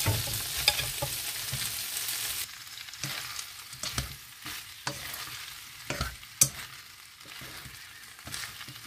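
Pork meat and black mushrooms frying in a pan, a loud constant sizzle broken by repeated scraping stirs and spatula knocks against the pan, close and without any voices.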